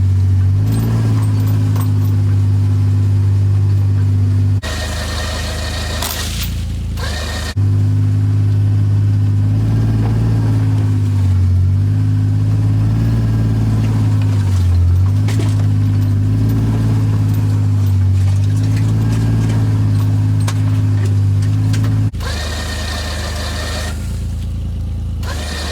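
A Kawasaki Pro FXT Ranch Edition Mule utility vehicle drives along with a loud, steady engine drone close by, its low hum holding mostly even with slight pitch shifts and a couple of brief drops as it moves.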